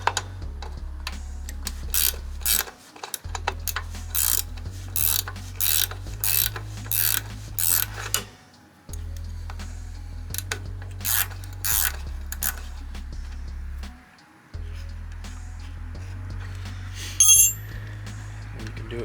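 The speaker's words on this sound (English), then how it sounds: "Hold it steady on one side, take your ratcheting wrench," A ratcheting wrench loosens a nut on a Snapper Pro SW30 52-inch mower with a Kawasaki engine, giving repeated bursts of close, crisp ratchet clicks separated by short pauses over a low steady hum.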